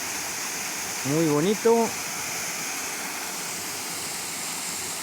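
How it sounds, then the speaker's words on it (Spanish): Waterfall near the old water mills of Villaviciosa in Asturias, a steady broadband rush of falling water throughout, with a brief spoken comment over it early on. "Tenemos aquí un salto de agua"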